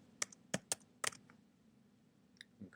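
Computer keyboard typing, a few sharp close clicks in a quick uneven burst, then a pause and two lighter taps, quiet with no talking.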